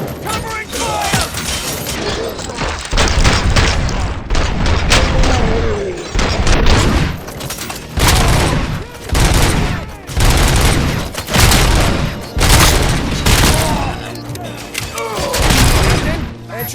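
Heavy bursts of covering gunfire and booming shots rattle through a firefight in the video game RoboCop: Rogue City, loud and rapid with short gaps between volleys.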